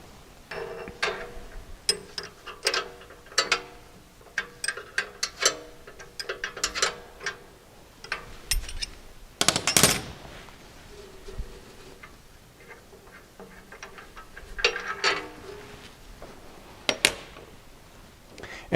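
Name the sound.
wrenches removing transport bolt from MAG-8000 blade sharpener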